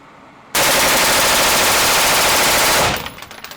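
A rifle fitted with an Atrius Selektor trigger and an H3 buffer empties a 30-round magazine in one loud, rapid, unbroken burst of automatic fire lasting a little over two seconds, followed by a fading echo.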